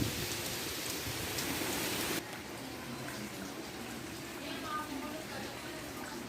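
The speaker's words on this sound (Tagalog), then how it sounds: "Medyo malakas ang ulan." Steady, dense rain pours down continuously during a typhoon, a broad hiss that drops slightly in level partway through and carries on without letup.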